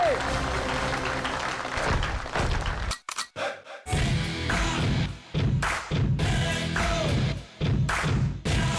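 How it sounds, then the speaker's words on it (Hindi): A stage-show audience claps loudly in sustained rounds that break off briefly and then resume, with some voices mixed in. "जोरदार तालियां बजाएं"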